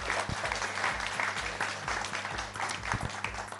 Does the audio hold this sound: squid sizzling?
no